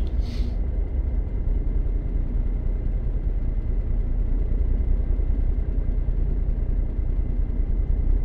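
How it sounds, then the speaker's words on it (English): Custom N14 truck engine sound mod in American Truck Simulator drones steadily at a low idle-like rumble, constant and unbroken, with a brief hiss at the start. "Recent custom engine sound by Z-Mod. It's his N14 engine sound."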